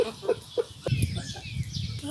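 Several short clucks from nearby chickens in a quick irregular series, followed by scratchy low rustling and murmuring.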